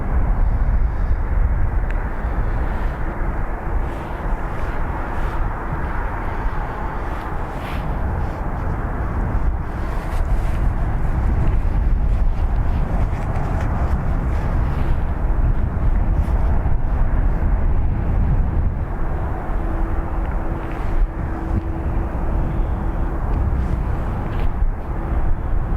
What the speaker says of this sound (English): Ryanair going to Bodrum.